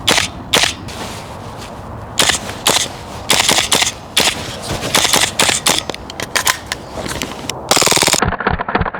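An airsoft gun fitted with a tracer unit, with drywall dust loaded in its barrel, fires a long run of sharp, close cracking shots, some single and some in quick bursts, ending in a rapid string of shots.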